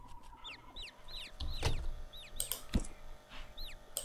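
Baby chicks following a player in the video game Summer in Mara peep repeatedly in high, quick chirps over a steady background, with a few soft thumps and rustles mixed in.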